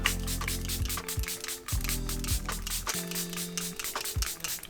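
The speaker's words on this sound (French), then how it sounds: "Spray fixateur." Makeup setting spray misted in a series of short bursts, each a brief hissing puff at a steady rhythm, close to the microphone, with faint handling noises and a low hum beneath.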